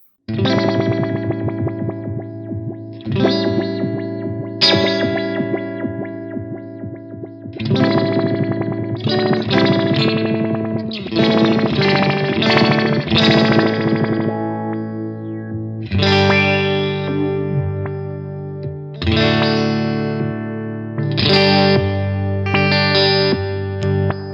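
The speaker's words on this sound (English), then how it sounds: "if we go to the special envelope, which is these up and down different speed ones" Electric guitar played through an envelope filter pedal in its special envelope mode, with phrases of chords and notes sweeping up and down at different speeds, loud and close, with distortion and chorus-like swirl and no talking.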